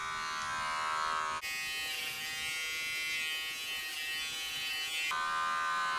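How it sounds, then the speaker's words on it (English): Electric hair clippers cutting hair with the clipper-over-comb technique during a mullet haircut: a steady high buzz that drops in pitch when the blades bite into hair, then rises again, close and continuous. "this technique is called clipper over comb"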